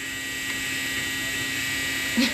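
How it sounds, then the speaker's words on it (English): A clothes dryer runs in a home with a steady whirring hum that stays level and continuous throughout, and a small bump near the end. "That was my dryer."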